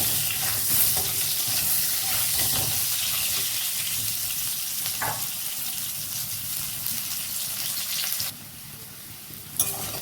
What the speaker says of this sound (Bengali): এবারে আলুগুলোকে আমি ভেজে নেব সামান্য নুন দিয়ে